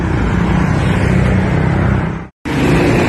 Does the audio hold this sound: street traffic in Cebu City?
yes